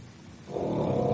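A pet dog snoring indoors, a harsh rasping snore that swells up loudly partway through and holds steady, close to the listener with no talking.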